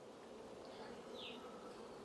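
Honey bees buzz in an open hive during beekeeping, a faint, steady, even hum with a few individual bees droning briefly closer.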